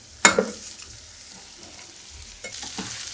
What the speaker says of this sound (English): I'm going to stir it and give it a little bit of time